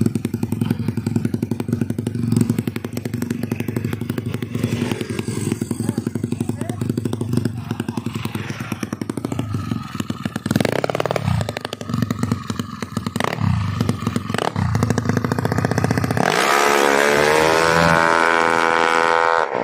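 A 200cc Yamaha Mio motorcycle engine revs and roars loudly close by as it passes, droning steadily before a higher whine rises near the end.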